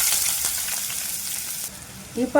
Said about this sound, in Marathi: तेल तापल्यानंतर आपण बघा बारीक चिरलेला इथे कांदा घालायचा आहे तेलात